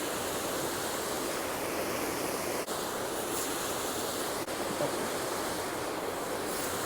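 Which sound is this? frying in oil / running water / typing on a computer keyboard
running water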